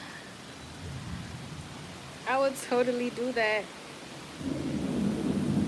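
Steady rain hisses throughout with a low rumble of thunder toward the end, while a person speaks briefly in the middle.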